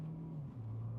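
A Mahindra Thar Roxx turbo petrol automatic accelerating at full throttle, a steady low engine drone heard from inside the cabin with the pitch dipping briefly as it shifts, then holding on.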